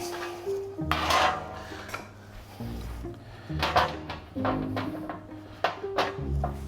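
A metal baking tray is pulled out and handled in a home kitchen for roasting parsnips and potatoes. Several close clanks and scrapes come in irregular bursts, with short quiet gaps between them.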